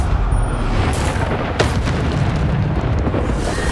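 A Bombarda spell blast in the video game Hogwarts Legacy, a heavy booming explosion with a sharp burst and rumbling tail, loud and close, with no voices.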